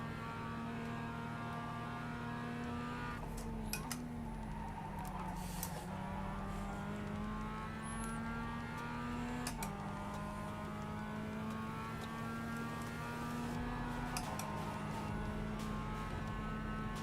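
Race car engines in the iRacing sim drone steadily throughout, with gear-shift pitch drops and rising revs, mid-distance and continuous with no talk.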